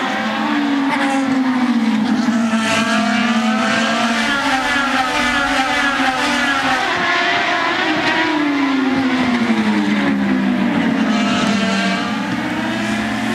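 Onboard view of an IndyCar racing at the 2010 Honda Indy 200, its engine note loud and constant as it climbs and falls through the gears over sweeping pitch changes, with faint crowd or commentary-like noise underneath.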